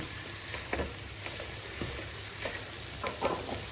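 Small onions fry quietly in a pan for beef fry, a faint, even sizzle with a few soft stirring scrapes, heard alone without speech.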